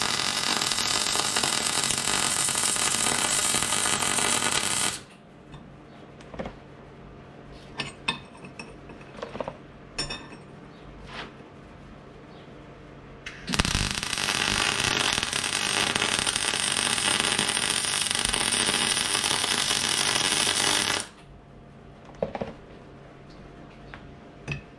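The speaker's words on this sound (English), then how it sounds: "so that's my two little brackets welded up" Small steel brackets for a homemade e-brake on a chopped 1951 Chevy are welded in two long bursts of loud crackling hiss. Quieter stretches with small clinks and taps come between and after the bursts.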